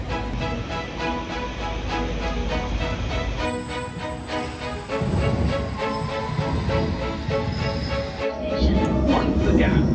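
A London Underground train rumbles and screeches at a platform, with a high whine and clattering wheels, loud and close, voices faintly mixed in.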